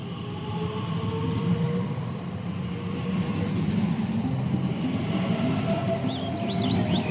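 A train rumbles steadily at a station in a radio drama, a continuous low mechanical roar with faint metallic squeals and rail noise layered over it, growing slightly fuller toward the end.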